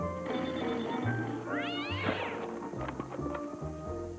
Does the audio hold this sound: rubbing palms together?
no